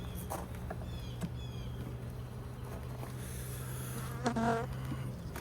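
Honey bees buzz at an opened hive early in the 2023 season, a faint, steady hum with scattered closer buzzes passing by and no talk.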